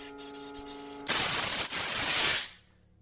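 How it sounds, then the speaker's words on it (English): Brake cleaner sprays in a loud, steady hiss onto a Land Rover Discovery central door lock, starting abruptly about a second in after a lower mechanical hum, then cutting off and fading out near the end. "I'm gonna do that first with brake cleaner."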